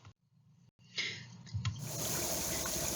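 Natural mineral soda spring in Idaho, its carbonated water bubbling and trickling out of the ground in a steady fizzing, gurgling wash that starts quietly after a brief silence and grows fuller and louder.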